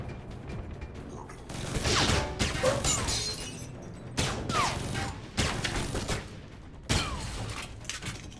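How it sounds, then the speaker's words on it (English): Gunfire and explosions in the Alpha Protocol video game: rapid bursts of shots, crashes and blasts keep coming in clustered waves, loud and close, with a dense war-zone din throughout. "We're in a goddamn war zone. Everything is on fire and exploding."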